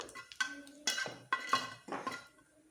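Dry red chillies and cumin are stirred in a pan with a metal spatula, a handful of quiet separate clinks and scrapes spaced out over a few seconds against near silence.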